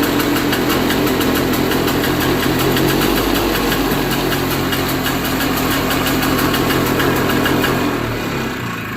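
Small engine idling slightly high after a carburetor clean, a loud steady close-up rumble with a fast even pulse that runs throughout and begins to fade at the very end.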